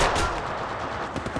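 Rapid automatic gunfire in the Apex Legends Mobile battle royale game, a dense continuous burst of shots lasting over a second with a few sharper cracks near the end, loud and close.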